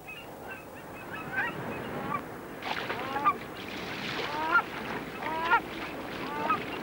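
Aleutian geese bathing in a tundra pond give repeated nasal honks, several birds calling in irregular bursts at close to moderate distance over faint background noise.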